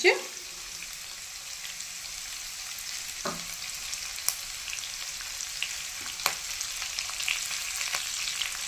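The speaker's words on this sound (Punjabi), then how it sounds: "ਇਹਨਾਂ ਸਾਰੇ ਸਮਾਨ ਨੂੰ ਤੁਸੀਂ ਬਸ 1 ਮਿੰਟ ਤੁਸੀਂ ਭੁੰਨਣਾ ਹੈ" Garlic, green chilies and dried red chilies frying in a pan, a steady, fairly quiet sizzle with occasional stirring clicks and scrapes, plus a sharp knock at the start.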